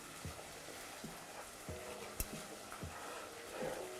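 Garlic cooking in a pan, a soft steady sizzle with a few light scraping stirs and one sharp tap, close and fairly quiet, no talking.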